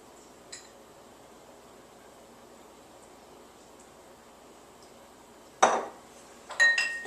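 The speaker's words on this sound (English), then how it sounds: "just muddle it together to really push that mint flavor through even more into that simple syrup" A pestle muddles mint with simple syrup in a glass: a mostly quiet stretch broken by a faint tap, then a few sharp, close glassy clinks and knocks near the end.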